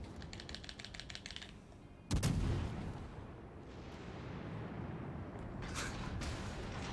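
A battleship's main guns fire in World of Warships Legends, one sudden heavy boom that rolls into a long, low rumble, after light keyboard clicking.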